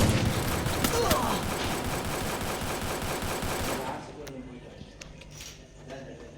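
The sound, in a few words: sniper rifle gunfire in video game Free Fire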